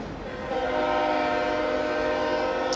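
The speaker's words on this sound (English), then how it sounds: "Train conductors are always so happy to give some extra noise here at Lynn." Train passing near a soccer stadium during a college men's match, its horn blaring in a loud sustained blast that swells and holds steady over the rumble of the rails.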